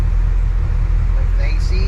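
A warmed-up car engine fitted with an Edelbrock 8059 idle-up solenoid idles at about 800 RPM, a low steady rumble close by with a faint whine rising near the end.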